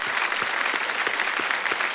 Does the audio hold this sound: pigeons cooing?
no